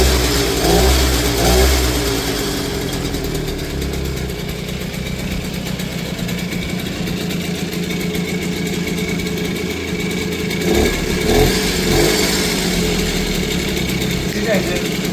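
A 1978 Di Blasi R2 50cc two-stroke folding motorcycle engine runs steadily close by, its buzzing idle rising in a few brief revs, with people talking over it.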